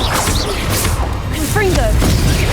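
Confringo blasting spell explosions in the Hogwarts Legacy video game burst amid dense combat noise, with a sharp crash and whoosh standing out under constant game sound and a brief voiced call.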